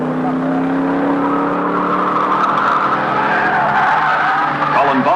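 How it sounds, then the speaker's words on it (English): Colin Bond's Holden touring car roars through the final lap of the race, its engine note loud and continuous with tyre skid and squeal mixed in and a commentator's voice running over the noise. "sure enough, McPhee does pit. Only for 5 gallons, but enough to put him too far back to catch the Bond Holden as it heads for the checkered flag"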